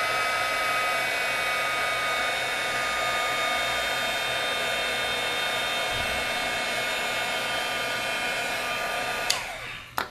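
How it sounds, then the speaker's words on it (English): Heat embossing tool blowing hot air onto embossing powder held down with a metal tool, a loud, steady close-up fan whir with a constant whine, then switching off abruptly near the end. "Hold it down with your metal tool and heat set it."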